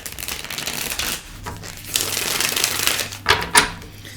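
Tarot cards being shuffled by hand in a quiet room, a steady papery riffle and rustle with sharper flicks and taps near the end, close and alone.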